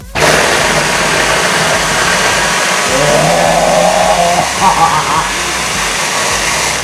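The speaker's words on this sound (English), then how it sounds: "Now we're going to whiz it together." A loud blender whirs continuously, grinding a chili spice paste for kimchi, its motor roaring steadily, with pitch shifting slightly midway as the contents churn.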